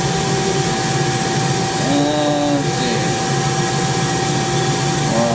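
A Mori Seiki 1500SZ CNC lathe with its spindle turning at 2,000 RPM: a loud, steady mechanical hum and whine that holds constant throughout, with a few faint higher tones drifting briefly in the middle.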